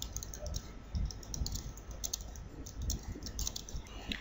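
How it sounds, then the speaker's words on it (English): A phrase is typed on a computer keyboard into a Microsoft Word document, producing a quick run of close, light key clicks with no voice. "Let's type a phrase without changing the font."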